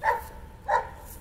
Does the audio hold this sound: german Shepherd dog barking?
yes